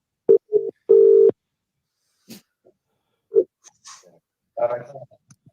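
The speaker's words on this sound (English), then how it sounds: "Right, let me phone John from Kent back because he's Kingy" A phone call begins with a few short, loud electronic tones from dialing and a ringing tone, followed by sparse faint clicks and small noises on the line.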